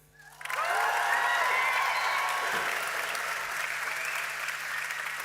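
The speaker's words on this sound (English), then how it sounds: "I want to hear people shouting, cheering for Adam and Victoria." A gym audience breaks into sustained applause with cheering and shouting for Adam and Victoria, starting abruptly after a brief quiet moment and staying loud and dense throughout.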